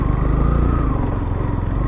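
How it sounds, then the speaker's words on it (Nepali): A motorbike engine laboring uphill in second gear, a loud, close, steady low drone with a slight pulsing throb and no pauses. "दुई गेरमा पनि गाडीले तान्ने गाह्रो मान्छ"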